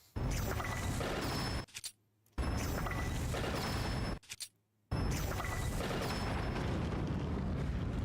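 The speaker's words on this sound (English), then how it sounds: "We got a lot of explosions out of it." Spell explosions in a fantasy video game: loud, broad booming bursts in three long waves, separated by brief quiet gaps and small pops.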